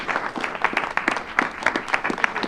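A small audience at a community meeting gives welcome applause, a sparse, close patter of individual claps with distinct, uneven hand strikes over a few seconds.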